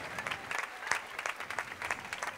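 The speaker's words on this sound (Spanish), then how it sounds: "Un aplauso para mí" Outdoor festival audience clapping at a town fair concert, a brief burst of dense moderately distant applause that swells and fades in uneven waves.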